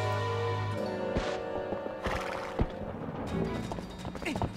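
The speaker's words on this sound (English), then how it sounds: "Get off of my horse." Horse neighing in the Zelda: Twilight Princess video game: a loud whinny over game music, followed by hoof clip-clops and scattered thuds, close and prominent.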